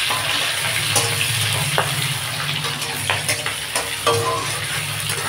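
Chopped onion, green chili and garlic sizzle steadily in hot oil, a continuous broadband crackle with intermittent scraping clicks of a spoon stirring through the pan, heard up close with no talking.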